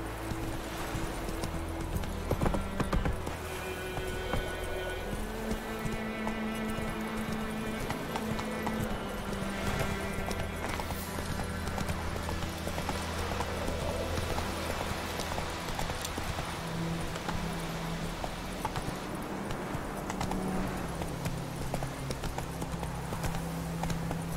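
Horse hooves clip-clop steadily in The Witcher 3: Wild Hunt, a regular trotting rhythm running throughout under game music and ambient sound.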